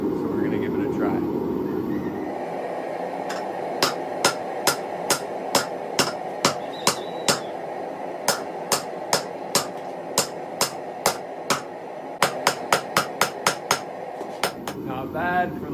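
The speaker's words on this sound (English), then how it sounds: "I'm gonna smack the material over the horn of the anvil to kind of get the bend started" Steel being bent over an anvil horn while forging a holdfast, struck by a long, steady run of about two dozen sharp, ringing hammer blows, evenly spaced and growing quicker near the end, with a brief voice at the start.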